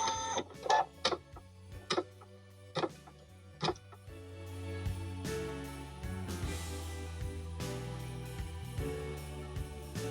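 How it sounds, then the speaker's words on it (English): An embroidery machine stitches an outline on a hooped curtain tie-back: a few sharp mechanical clacks at first, then a steady, fast rhythmic ticking and whirring of the needle running continuously, close and moderately loud. "The first step is just going to stitch on an outline."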